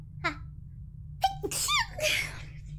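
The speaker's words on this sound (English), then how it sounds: "I'm gonna sneeze." A single sharp sneeze with a quick breathy build-up, close and fairly loud, followed by a short giggling exhale.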